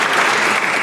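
A short burst of dense crowd applause at a small business recognition awards ceremony, loud and continuous with no breaks.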